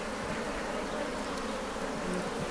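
A steady, dense buzzing of many bees, continuous and fairly close, with no voices.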